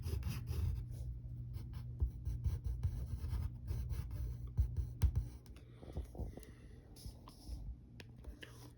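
A pencil scratches and rubs steadily across paper, drawing a cartoon cat, close and soft with a continuous scraping texture and short strokes near the end.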